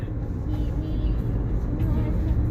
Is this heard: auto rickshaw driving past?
yes